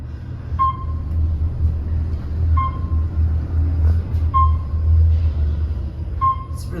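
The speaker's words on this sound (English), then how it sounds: "It's a really fast elevator." A fast Otis elevator runs with a steady low rumbling hum, broken by soft periodic ticks or clicks, close and without talk.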